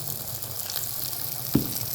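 Potato pinwheel samosas fry in hot ghee over a medium flame, a steady soft sizzle and crackle with one brief sharp pop midway, fairly quiet and close, no voices.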